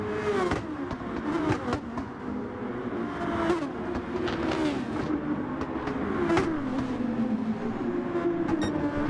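Race cars lap the Brands Hatch circuit in a championship race, engines droning and revving steadily with repeated pitch swells as cars pass, a dense continuous roar without a break.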